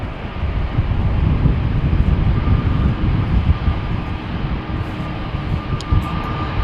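An ITA airliner taxiing at Amsterdam Schiphol Airport, a loud, steady engine roar and rumble with tyres on pavement, continuous and close.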